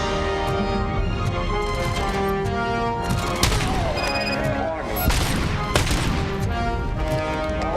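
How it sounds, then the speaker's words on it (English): Gunfire from an enemy shooter in the RoboCop Rogue City video game crackles in dense, loud bursts with booming impacts and crashes over a busy game soundtrack. "Where's he shooting me from?"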